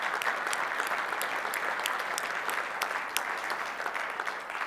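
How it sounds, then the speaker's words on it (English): A conference audience at CloudFest gives a round of applause, steady dense clapping from a large room, continuous and even from start to finish. "I would like to welcome you in just helping me with a round of applause for our brave Ukrainian friends"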